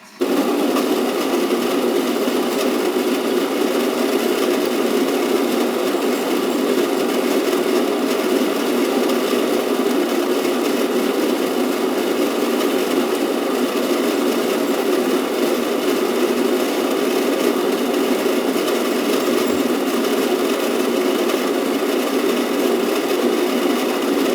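Electric coffee grinder set to 8 grinding Ethiopian beans for espresso, a steady loud whirring drone that runs unbroken and close for the whole stretch with no talk.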